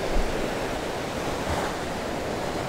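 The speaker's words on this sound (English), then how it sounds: "Just as those waves come in" Ocean surf breaks steadily on a beach during surf fishing, a constant wash of breaking waves with a slight swell near the start and wind across the microphone, no voices.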